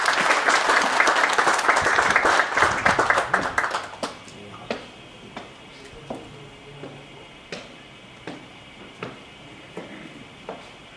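Audience applause at a fourth-year secondary school graduation ceremony in Chile, loud dense clapping from a crowd that fades after about four seconds into scattered, isolated claps spaced apart until the end.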